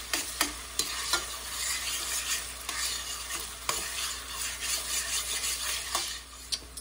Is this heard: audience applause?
no